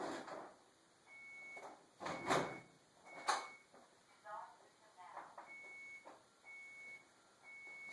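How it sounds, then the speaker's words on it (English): Alarm system keypad sounding its entry-timeout announcement in a house near the front door: short electronic tones repeat at intervals, with a few louder handling knocks and background noise between them. "you hear the keypad announcement that we're now in timeout to enter our code"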